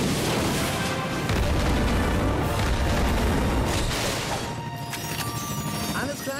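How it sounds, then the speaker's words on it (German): A loud, dense explosion blast in the Ratchet & Clank video game, with a sustained booming crash and debris rumble that fills the clip before easing slightly, layered game sound throughout. "was in Zonis Namen ist da gerade explodiert?"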